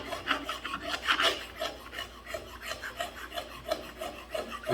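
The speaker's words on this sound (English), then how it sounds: "flat file to go around the circumference here and make sure that there's no imperfections" A flat metal file rasps in steady back-and-forth strokes around the circumference of the ring gear carrier from a 2016 Jeep Wrangler rear differential, close and rhythmic, with no voices.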